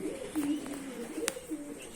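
A young turtle dove coos softly close by, a low wavering series of calls over a quiet background with a faint click partway through.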